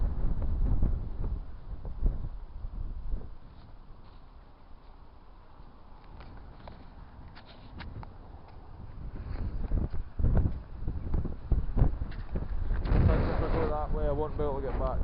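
Gusty wind blowing through a hole in the eroded stones of an old viaduct, a loud rumbling buffet against the microphone that rises and falls, with someone talking over it.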